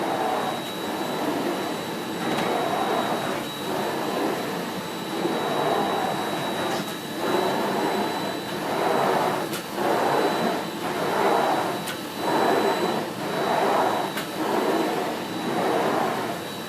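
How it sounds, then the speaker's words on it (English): Miele Blizzard CX1 Comfort bagless vacuum cleaner with a straight suction head working a carpet, a loud steady whining roar with a high tone that swells and dips rhythmically as the head is pushed back and forth. "It's a straight suction head on carpet."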